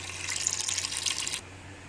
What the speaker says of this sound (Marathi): तर आता या डाळीमध्ये आपण पाणी टाकूया